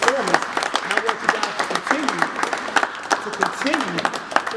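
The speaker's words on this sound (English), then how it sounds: "Give yourselves a round of applause for that." A sports team at a championship event claps in a short, uneven burst of hand claps while voices talk over it.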